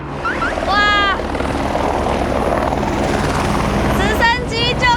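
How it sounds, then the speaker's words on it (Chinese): A helicopter carries passengers up to a New Zealand glacier, its rotor and engine roaring loud and close without pause while excited voices call out over the din. "直升机就跟电影里面的一样吵，讲话都要这样子。"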